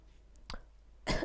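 Two short, harsh coughs from a single person, the first near the half-second mark and the second, louder one about a second in, with quiet room tone between them and no speech.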